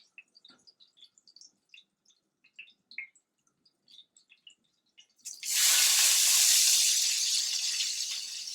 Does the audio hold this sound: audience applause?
no